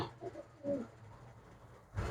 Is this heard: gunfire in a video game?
no